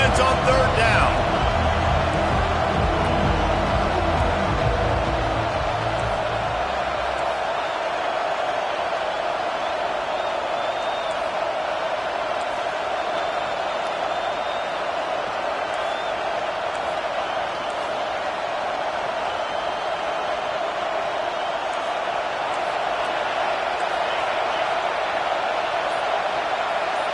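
Stadium crowd roar in the NCAA 25 college football video game on a third down: a loud, sustained wash of broadband noise that holds steady throughout, with a low rumble in the first few seconds.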